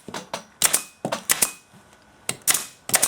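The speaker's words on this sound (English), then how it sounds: "put a couple of staples in" A staple gun fires repeatedly while foam is fixed to a dining chair seat, sharp close clacks in quick irregular bursts of two or three with short pauses between.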